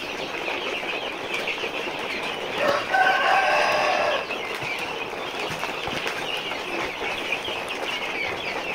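At a poultry farm in Muktagacha, Mymensingh, selling deshi, Fayoumi and Sonali birds, chickens cluck steadily over a noisy background while a rooster lets out one clear crow near the middle.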